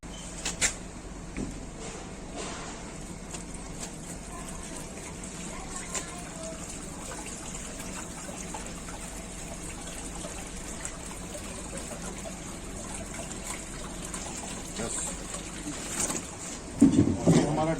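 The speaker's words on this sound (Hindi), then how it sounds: "तो ओके, अब हमने पानी डाल दिया है।" Water runs steadily into the tank of a KRUGE walk-behind auto scrubber, a commercial and industrial floor cleaning machine. A continuous close hiss of flowing water carries on, and a few louder knocks come near the end.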